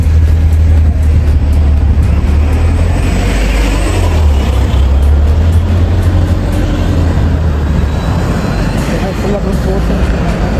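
London buses and street traffic rumble past during a hot-weather walk to work, a heavy low engine drone lasting throughout with busy roadway noise.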